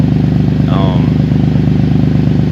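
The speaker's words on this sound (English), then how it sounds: "I know you can hear a nice exhaust leak" An Infiniti Q70L 3.7L engine with an exhaust leak idles close by with a steady, rough, puttering exhaust rhythm, loud throughout, with a brief higher whine in the middle.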